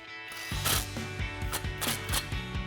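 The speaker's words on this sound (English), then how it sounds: "Now we can use a 19mm socket to tighten our lug nuts down." A ratchet with a 19mm socket clicks in quick repeated bursts while tightening lug nuts on a 2004-2014 Ford F-150 fitted with 1.50-inch 6-lug wheel spacers, the pawl rattling close and clear with no talking.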